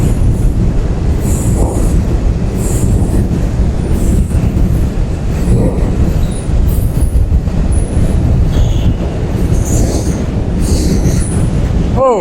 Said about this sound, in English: Oh, that's a long one.